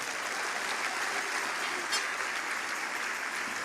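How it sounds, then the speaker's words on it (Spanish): A church congregation applauds together in a steady, dense wash of clapping that holds evenly throughout, moderately distant and with no talk over it. "Un aplauso al Señor."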